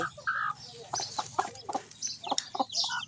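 Chickens in a rural Thai village yard cluck close by in short, uneven bursts, with some higher calls mixed in over a quiet background.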